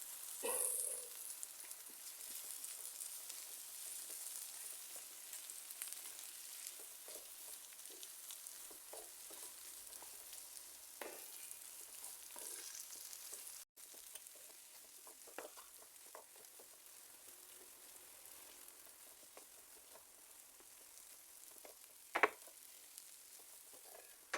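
Red pepper flakes, black pepper and salt stirred into a mixture cooking in a pan, a quiet, continuous sizzle lasting many seconds with occasional soft scrapes and taps of stirring, no voices.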